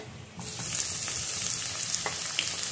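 Onion dropped into hot oil, a sudden loud sizzle that holds steady and close with a few small stirring clicks, no voices.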